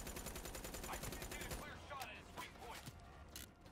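Gunfire from the Call of Duty Black Ops III video game, a dense rapid burst of shots in the first second and a half, then scattered single shots and impacts mixed with game effects.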